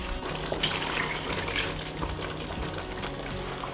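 Tap water runs steadily in a kitchen as an ingredient for a red pork asado is rinsed, a close, continuous splashing stream with no talking.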